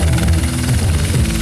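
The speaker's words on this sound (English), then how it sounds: "There's a helicopter landing right there." A helicopter landing nearby produces a steady, throbbing rotor roar with rapid rhythmic chopping, loud and continuous throughout.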